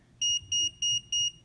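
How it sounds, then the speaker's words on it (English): Four crisp, high electronic beeps in a steady on-off rhythm come from a Tumi power bank's Find Me alert, heard close and loud against faint background hum with no voices. "This beep allows me to easily find it."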